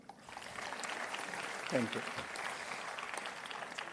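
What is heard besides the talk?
audience applause at a graduation ceremony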